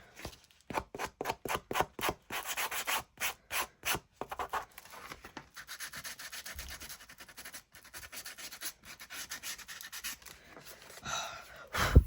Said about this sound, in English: I did sand some of the vintage photo off of the grit paste